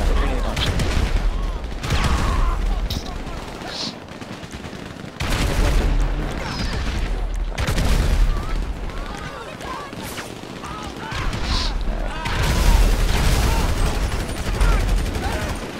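Gunfire and RPG explosions in GTA 5 during a purge-style free-for-all, with dense bursts and heavy booms clustering in loud waves that keep recurring over a steady background of game noise, with a voice talking at points.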